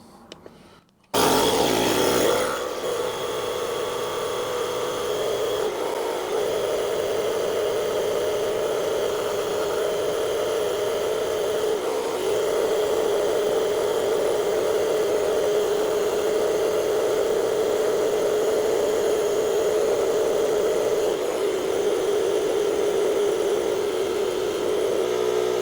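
Portable jump starter with built-in air compressor pumping up a 34-inch Jeep tyre to 38 psi, a steady, loud motor drone with a constant whine that runs unbroken from a click at the start to the end.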